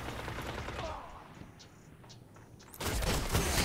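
Gunfire from a sniper in the video game Destiny, with rapid shots and a sudden loud burst of firing near the end, mixed with game effects.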